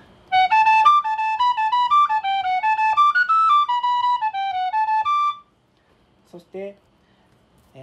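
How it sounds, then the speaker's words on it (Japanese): A tin whistle plays a bright, steady run of evenly spaced notes, three even notes per group in an Irish jig, in a flowing melody, followed by a few faint clicks and brief rustling. "3つの音符を均等に吹くと"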